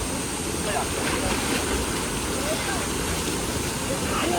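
Amboori waterfall in Kerala pours in a steady, loud, broadband roar of rushing water that holds level and close throughout without a break.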